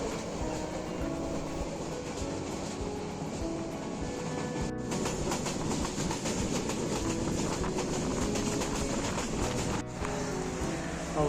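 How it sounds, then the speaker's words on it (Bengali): A passenger train heading to Sylhet runs fast through the night, its steady loud rumble and rhythmic wheel clatter filling the carriage. Two brief sharp cracks break the sound. "এই নিস্তব্ধ রাতে অবাধ গতিতে ছুটে চলছে আমাদের ট্রেন সিলেটের উদ্দেশ্যে।"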